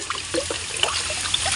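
Water poured from a spring-fed well, a close, irregular trickle and dribble of splashing liquid with small bursts, with no talk over it.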